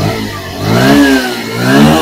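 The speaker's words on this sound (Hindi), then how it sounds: "बिल्कुल बाइक सही चल रहा है।" A Bajaj Pulsar 125cc BS6 motorcycle, recently fitted with a new ECM, revs up loudly close by, its engine note rising twice in strong throttle blips above a rough, steady idle.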